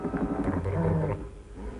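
A low, rumbling dog growl rolls on through a noisy old film soundtrack in a scene of dogs tracking each other. It is moderately loud and sustained for under two seconds, with no speech over it.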